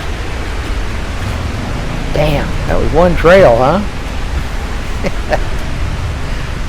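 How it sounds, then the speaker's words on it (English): Rushing water of Sawmill Creek near Beaver Lake in Sitka, Alaska, a steady broadband hiss running through the whole stretch, with someone talking briefly over it in the middle. "Oh, love the sound of that water."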